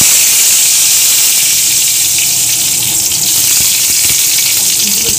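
Curry leaves and mustard seeds splutter in hot oil in a home kitchen pan, a loud, steady hissing sizzle with crackles that continues without pause.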